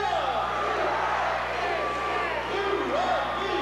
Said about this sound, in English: take a listen to the crowd, really getting fired up now